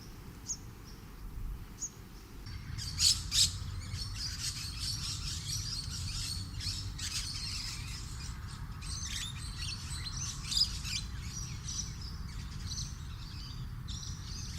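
Musk lorikeets chattering in trees on a well-planted university campus near Melbourne, bursts of high, shrill chirps and screeches layered over a constant low outdoor hum, moderately distant and continuous.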